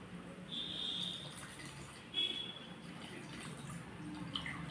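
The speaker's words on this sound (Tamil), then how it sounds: "இப்போ இல்லை கொஞ்சம் தண்ணி ஊற்றிக்கலாம்." Water is poured into a pot of turmeric-spiced immunity kashayam on a home stove, making a faint, steady splashing trickle that carries on for a few seconds at low volume.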